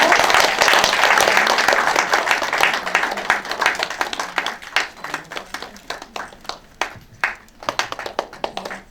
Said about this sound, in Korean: 여러분 박수로 함께 해주십시오